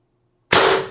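An Umarex TR68 paintball marker running on HPA through a buttstock air supply adapter fires a single sharp, loud shot, a sudden burst after near silence that tails off quickly.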